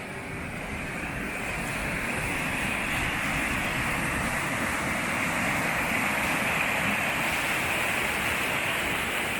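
A river in the Scottish Highlands flows beside a woodland camp, producing a loud, constant rushing wash of water that stays even throughout with no voices.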